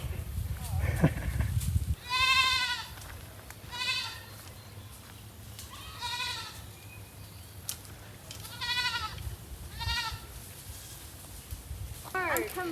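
Goats in a field clearing buckthorn bleat repeatedly, about five distinct bleats spaced a couple of seconds apart, moderately close over a quiet background.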